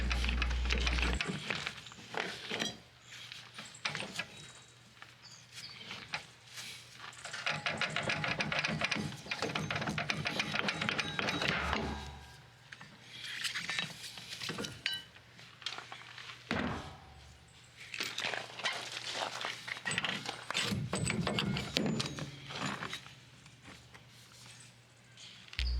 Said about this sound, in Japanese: テンションボルトを外します。